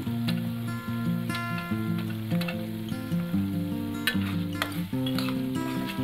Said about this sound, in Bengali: চিকেনের সাথে ভালোভাবে আমি কষিয়ে নিচ্ছি